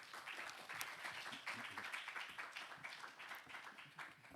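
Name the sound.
audience applause in church service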